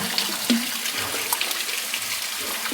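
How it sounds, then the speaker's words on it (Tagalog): Water trickling and dribbling in a forest stream that runs down from the ground surface into a cave pool, a faint, intermittent splashing and burbling, close by and heard on its own. "Yung pumbatak lang na tubig dito. Ayan. So, parang ano siya, sapa na nanggagaling sa ibabaw ng kalupaan."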